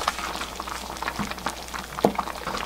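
Thick bean porridge with mugwort simmering in a pot, soft bubbling and popping blips at a steady low level with one sharper pop near the end, no voices.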